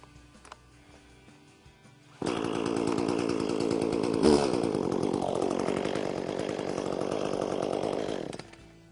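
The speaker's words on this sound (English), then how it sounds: "you're ready to start your chainsaw" An ECHO gas chainsaw starts after a quiet moment and runs loud and steady for several seconds, then cuts off abruptly.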